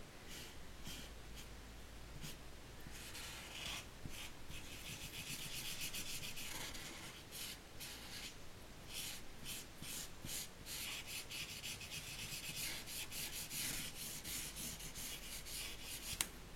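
A felt-tip marker colours in a squirrel drawing on an autumn card, a soft continuous scratchy rubbing with short rhythmic strokes and brief pauses, quiet and close, with no voices.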